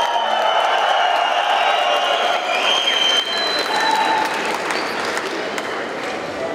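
Sustained applause and cheering from a large crowd at a welcoming event in Bishkek for an Olympic champion, steady and loud throughout with scattered whoops and voices mixed in.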